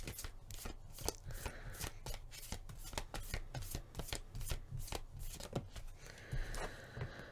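Tarot cards being shuffled by hand, a rapid series of crisp riffling flicks and slaps in an irregular rhythm, close and moderately quiet, with no voices.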